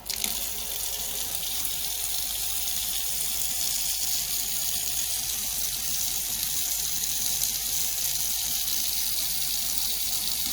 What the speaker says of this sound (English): I'm gonna start water flow